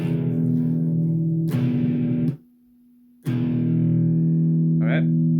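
Electric power chord on the sixth and fifth strings of an electric guitar, loud and distorted, ringing out, briefly muted to near silence, then struck again and sustained with a small squeak of fingers on strings.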